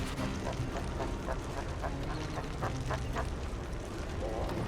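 A Skylanders: Spyro's Adventure video game character makes repeated, squawky chicken-like clucks in quick succession, set against a dense, continuous bed of game sound.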